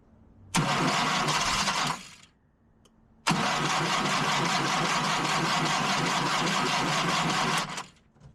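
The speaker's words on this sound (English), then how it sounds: "it's a little warm still on the engine, so should start half decently" A 1972 Fiat 850 Sport Spider engine, still warm, cranks and catches briefly, dies after about a second and a half, then restarts and runs steadily for several seconds before cutting off.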